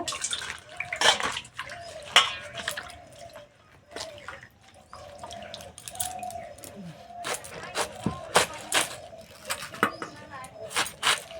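Tap water runs and splashes intermittently as a cabbage is rinsed in a kitchen, with close clattering handling sounds and a voice speaking.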